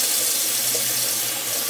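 Water runs steadily from a bathroom sink tap during face washing, a close, continuous hiss and splash with no pauses.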